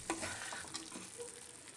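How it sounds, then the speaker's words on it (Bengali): Goat liver stir-fried in oil in a pan for mete chorchori, a soft continuous sizzle with a few scraping stirs near the start, close and quiet. "বেশ কিছুক্ষণ ধরে সময় নিয়ে মেটেটা আমি কষে নেব।"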